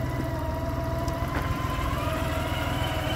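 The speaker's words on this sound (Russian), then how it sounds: "Все, мотоцикл катится назад, реверс у него работает." A Honda GL1800 Goldwing ABS motorcycle runs in reverse, rolling backwards with a steady, close engine drone and a faint whine layered over the low hum.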